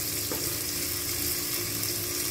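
Chopped onions hit oil that has been heated until it burned, giving a loud, steady, close sizzle that holds without a break.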